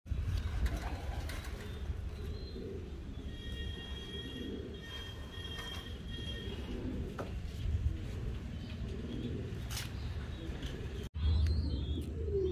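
A fancy pigeon with a cold, kept separated, coos softly in repeated low murmurs over a steady background rumble, with faint voices at times.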